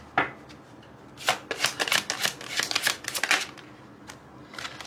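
A deck of tarot-style cards being shuffled by hand, one quick riffle followed by a longer run of rapid flicking, riffling bursts, close and fairly loud, then fading.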